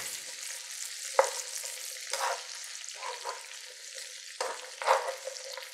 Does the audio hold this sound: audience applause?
no